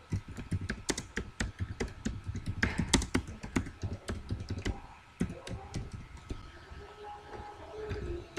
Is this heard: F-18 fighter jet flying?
no